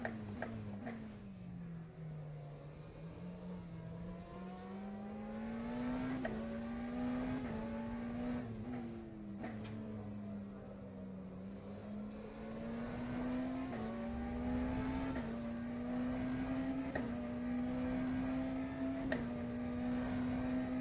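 A McLaren Senna GTR race car engine in rFactor 2 drones steadily with a rising and falling tone as it shifts through gears, heard from inside the car, fairly quiet, with occasional ticking clicks.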